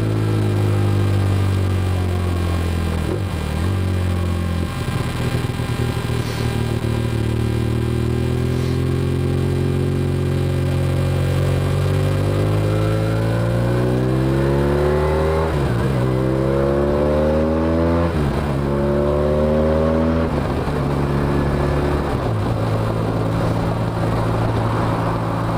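A car overtakes a motorcycle on an open road, heard from the rider's side, with a steady engine drone and wind noise throughout. Several rising and falling engine sweeps come near the end as the car passes close by.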